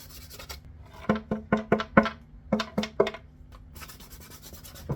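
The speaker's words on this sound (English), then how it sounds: "I'm using 1000 grade sandpaper, which is really fine, just smoothing out the varnish a little bit" Fine 1000 grade sandpaper smoothing varnish on a violin, heard as a series of short, even rasping strokes in quick rhythm, close and fairly quiet, with no talking.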